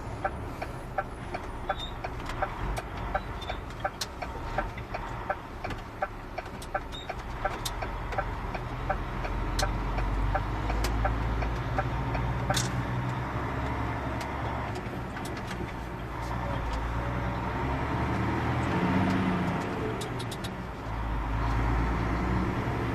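A lorry drives along a narrow road away from the motorway, its engine a steady low rumble throughout, with faint regular ticking and a brief bird call near the start.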